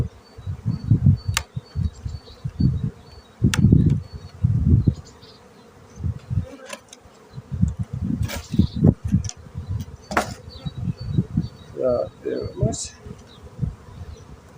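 Honey bees buzz loudly and densely around the frames of an open hive, a close, continuous hum that swells and fades as they fly near, with light clicks of the frames and someone speaking now and then.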